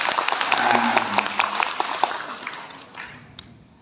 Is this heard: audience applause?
yes